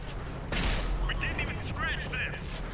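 A tank cannon in a World War II tank video game fires with one sharp loud blast followed by a rumbling tail, with brief warbling game sound effects after it and no talk.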